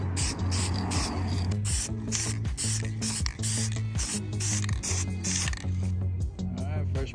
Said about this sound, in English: So now I'm gonna go ahead and just spray the trim black on the new cluster